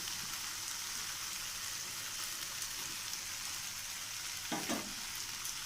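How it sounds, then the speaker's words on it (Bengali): Fried potatoes stirred into a sizzling pan of paneer and capsicum: a steady hiss of frying runs throughout, broken near the end by a short, louder scrape of a spoon. No one speaks. "আলুটাকে আমি সুন্দর করে মিশিয়ে নেব"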